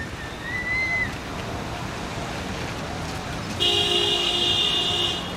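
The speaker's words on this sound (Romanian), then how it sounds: "măcar o claxonare" A car horn honks in a steady, sustained blast near a park entrance where cars are parked on the sidewalk, rising out of a noisy outdoor background for about two seconds.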